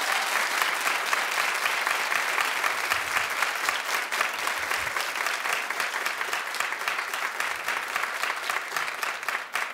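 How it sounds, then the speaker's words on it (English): A studio audience at a daytime talk show breaks into long, dense, sustained applause, loud and steady throughout with a faint crowd murmur beneath. "Yeah, don't clap for so long."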